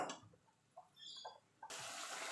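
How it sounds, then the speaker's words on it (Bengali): Water poured into a pan of pabda fish curry in mustard sauce, a steady broad splashing gush that starts suddenly partway through and continues loud to the end, after quieter stirring clatter. "এবার জল দিয়ে দেবো"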